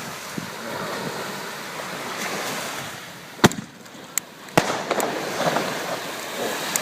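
New Year's Eve fireworks outdoors amid wind and ocean surf, with a few sharp, loud bangs and cracks bursting over a steady windy wash, some fainter pops scattered between.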